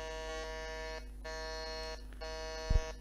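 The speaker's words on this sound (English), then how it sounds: "can I have all of you guys try your buzzer one more time, please?" Quiz contestants' electronic buzzers are tested one after another, giving three long, steady, loud electronic buzz tones separated by brief gaps, with a short thump near the end.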